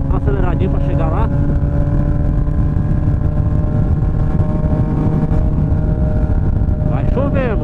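A Honda CB 1000R motorcycle engine runs loud and close with steady tonal harmonics, its pitch sweeping upward in brief revving bursts near the start and again at the end, over continuous road and wind rumble.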